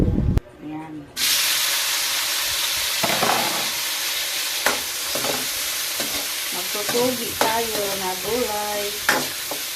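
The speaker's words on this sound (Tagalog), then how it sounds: "Magtutugi na naman ako na lumpiang togi with kalabasa" Bean sprouts and squash stir-fried in a pan as filling for lumpia, a loud continuous hissing sizzle with scraping stirs and a voice talking at times in the background.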